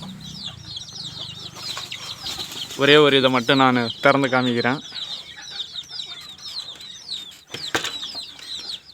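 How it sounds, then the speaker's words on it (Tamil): Inside a coop, a mother hen clucks low among about ten chicks, whose high, rapid peeping runs throughout. Someone speaks briefly in the middle, and some wing flutters and knocks are heard close up. "ஒரு தாய், அதுக்கப்புறமா ஒரு 10 கோழி குஞ்சுகள் வந்து இருக்குது"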